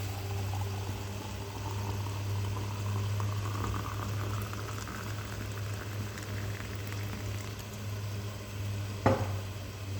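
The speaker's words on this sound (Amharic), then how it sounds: "የፈላ ውሃ ጨምሬያለሁ።" Water bubbles in a pot on a gas stove, a steady close simmering burble with a low hum underneath and one brief clink near the end.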